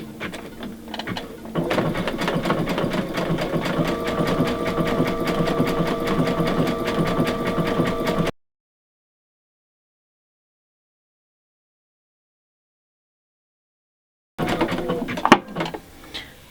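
A Baby Lock Aria sewing machine stitching rows on faux lace made with bridging plates runs in a long, even, close whirring hum, falls silent for several seconds, then starts again in a brief run with a couple of clicks.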